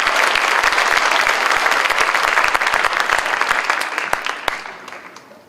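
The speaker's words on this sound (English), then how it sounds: "Give him a round of applause" A roomful of people clapping loudly at a county prom promenade, a thick burst of applause that holds steady and then tapers off and fades out near the end.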